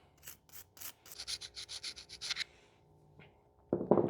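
A brush scrubbing concentrated Tri-Flow grease goop off metal parts: about a dozen quick rhythmic bristle strokes, a short pause, then a louder, harsher scrub at the end.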